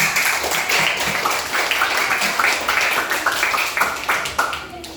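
Fifth-grade schoolchildren clap together in a classroom during a lesson, a dense, steady burst of hand claps filling the room for several seconds, with children's voices mixed underneath.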